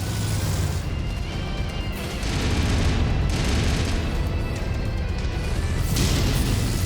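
Missile explosions in the MechWarrior game, mech combat against a crab-like mech: a continuous loud rumbling barrage of booms and crashes with dense low-end roar, swelling around the middle and again near the end, no talk.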